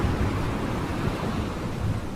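Ocean waves churn as a steady broadband wash of surf and water noise, loud and continuous with no speech, used as a sound effect in a stop-motion brick film.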